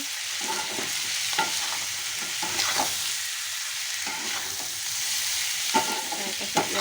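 Meat with turmeric sizzles in a frying pan while a spoon stirs and scrapes it in repeated strokes, close and clear over a steady frying hiss.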